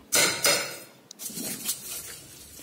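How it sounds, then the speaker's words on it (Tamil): Rice goes into a pan for mango rice with a couple of sharp metallic clanks, then lighter clinks and scraping as a utensil mixes it against the pot, close and without talk. "அந்த அரிசியை உள்ளே போட்டு நல்லா மிக்ஸ் பண்ணணும்."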